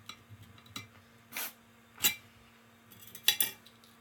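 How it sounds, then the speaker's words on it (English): A kitchen knife knocks against a cutting board while slicing a jalapeno, a few sharp separate clicks and taps spread out over several seconds, close and quiet, with no talking. "Now what you want to do is cut your jalapeno like this."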